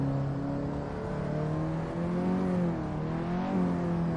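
A KTM X-Bow engine revving while lapping Spa in the Assetto Corsa racing game, a continuous droning engine note whose pitch rises and falls in smooth sweeps, steady and alone without speech.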